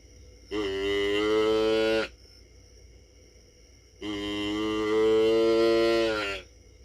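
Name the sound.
deer call imitating a doe bleat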